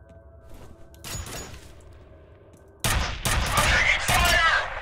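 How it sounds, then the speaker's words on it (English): Gunfire in the video game F.E.A.R. starts as a quieter burst, then erupts into loud, dense automatic fire with rapid cracks and impacts for the final couple of seconds. "I'm taking fire!"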